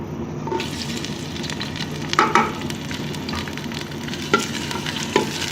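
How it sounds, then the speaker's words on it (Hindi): Onions dropped into hot ghee in a handi over a medium flame, frying with a steady broad sizzle and crackle, a few louder stir clatters at intervals; no talking. "अब हम इसमें प्याज डालेंगे"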